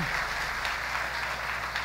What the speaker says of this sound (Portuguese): dá uma salva de palmas para Joseph Scriven